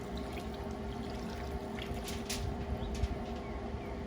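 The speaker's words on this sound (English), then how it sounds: "So pour this in there, that juice for it to cook in." A marinade of Dale's and Allegro with beef broth is poured over a pot roast, a soft, steady trickle heard up close under a low, constant background hum.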